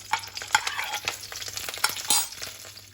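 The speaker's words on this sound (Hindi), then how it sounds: "आप देख सकते हैं जीरा जो है अच्छे से भून गया है और सभी मसाले, खड़े मसाले जो है अच्छे से भून गए हैं" Whole spices, cumin, mace, star anise, bay leaf and nutmeg roasting in hot oil, a crackling sizzle with quick irregular stirring clatter of a spoon against the pan, close up.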